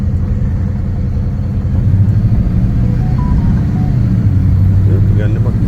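Holden HQ Monaro on its first drive, a steady low engine rumble from inside the car that rises slightly in pitch as it pulls away, road noise underneath, no talk.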